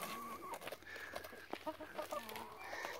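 Hens at a cabbage-eating competition cluck and murmur close by in quiet, overlapping calls with a few short sharp notes.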